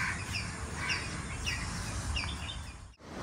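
Birds call repeatedly in short, faint chirps over steady outdoor background noise amid greenery near a river dam, with no talking.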